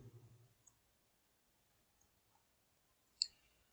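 A computer mouse gives a single sharp click near the end of a quiet stretch, with a few fainter ticks before it.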